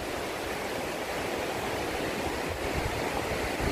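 A river flowing after flooding in Trinity Ville, St Thomas, a steady broadband rush of water that stays even and continuous throughout, with no voices.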